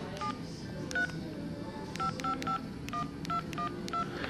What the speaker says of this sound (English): Making a phone call brings up an interesting menu. Let's dial information.